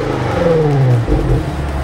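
Quad-outlet M Sport exhaust on a BMW X5 M or X6 M, a loud close engine note that rises in pitch as it revs, then drops and settles back into a steady burble.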